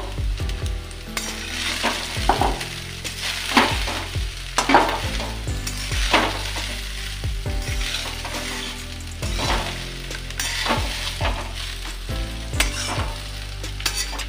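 Rice with fried vegetables stir-fried in a pan: a steady close sizzle, broken again and again by quick scraping strokes of the spatula in an uneven stirring rhythm, with no voices.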